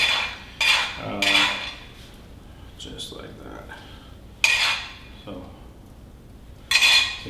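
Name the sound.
spreading Tasty Hot butter on a pizza base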